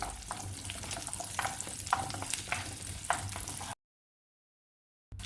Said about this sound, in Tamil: சின்ன வெங்காயம் சேர்த்து நல்லா வதக்கணும்